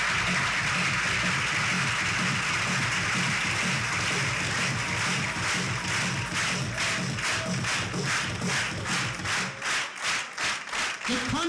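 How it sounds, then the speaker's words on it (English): A large banquet audience breaks into applause, sustained clapping that grows into a rhythmic, unison beat toward the end, with some voices mixed in. "a large round of applause"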